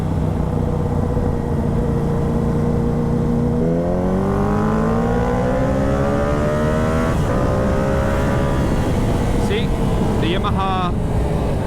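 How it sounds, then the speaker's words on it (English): A Yamaha R7 motorcycle pulls hard on a twisty road, the engine note climbing steadily through the gears with quick shifts, under constant rushing wind noise from the rider's position. "R7 has plenty of power needed to pass slow-moving cars on twisties."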